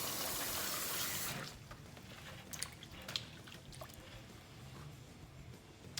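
Running water gushes loudly for a moment while rinsing cut sweet potatoes, then stops, leaving faint drips, splashes and light handling noises in a quiet kitchen.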